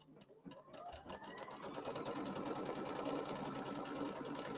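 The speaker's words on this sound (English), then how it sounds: "So it's just going to sew our placement line." An embroidery sewing machine stitches a placement line for batting on a quilt block, its motor starting up and settling into a fast, steady whirring hum that runs on close by.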